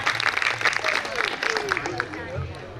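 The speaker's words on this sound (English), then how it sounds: "Clap for teams. both teams. Yes, clap." An audience at a school annual concert quiz applauds both teams, a steady wash of many hands clapping throughout, with children's voices and a brief whistle-like tone mixed underneath.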